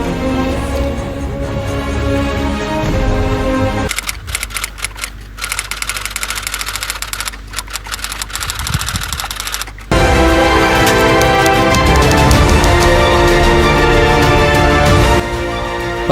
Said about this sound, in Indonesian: Teks proklamasi Indonesia diketik oleh Sayuti Malik.